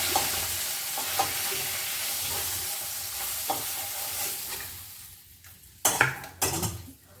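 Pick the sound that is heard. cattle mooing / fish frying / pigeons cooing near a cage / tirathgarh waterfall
fish frying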